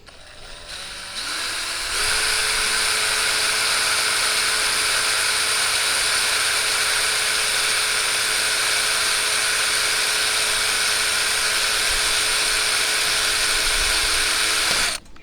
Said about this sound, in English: take, I think it's a 16th, yeah, a 16th drill bit and drill pilot holes